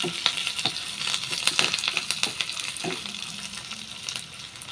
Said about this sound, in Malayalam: നന്നായിട്ട് മൂപ്പിച്ചെടുക്കണം.